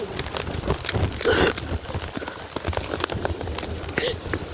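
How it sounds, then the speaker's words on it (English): Heavy night rain pours onto a flooded street, a dense crackling patter of drops and splashes that continues steadily, with a person's voice briefly audible under it. "there's so much rain in the street right now"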